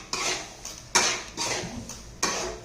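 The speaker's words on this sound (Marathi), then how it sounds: "दही घातल्यानंतर एकसारखा हलवायचा आहे" A metal spoon stirring yogurt into masala in a pan, several distinct clanks and scrapes against the pan in an uneven rhythm, close and moderately loud, with no talk.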